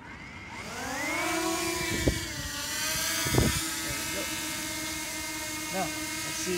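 A camera drone spins up and lifts off beside a lake on a bright day. Its rotors rise into a steady, close, high-pitched whine that holds under brief bumps of handling noise.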